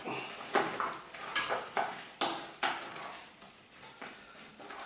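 Spring onion gets stirred into cottage pie mince in a pan, with repeated rhythmic scrapes and clacks of a spoon against the pan and a faint sizzle between strokes, close up and with no talking.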